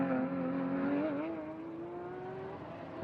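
A Porsche race car engine running at the Sepang 12 Hours endurance race, a steady loud drone whose pitch climbs gradually as the car accelerates, heard alone without talk.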